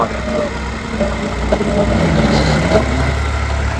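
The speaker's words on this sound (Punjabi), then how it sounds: "ਆ ਦੇਖੋ ਟਰਾਲੀ ਨਿਕਾ ਜਾ ਮੁੰਡਾ ਲੈ ਕੇ ਆ ਰਿਹਾ ਵਾਹ ਜੀ ਵਾਹ ਟਰੈਕਟਰ ਤਾਂ ਚੱਕ ਆਇਆ" A tractor engine pulling a trolley rumbles steadily nearby, a low continuous drone with slight surges, no talking over it.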